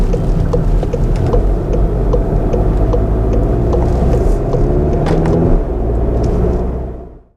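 A high-mileage Volkswagen Golf GTD engine drones steadily from inside the cabin while driving, with a loud, constant low rumble and road noise that fade out at the end. No one speaks.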